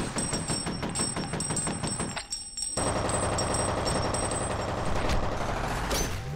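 Rapid automatic gunfire from the first-person shooter F.E.A.R., loud and dense bursts hammering almost continuously, broken by a brief quiet gap near the middle before firing resumes with shots and impacts.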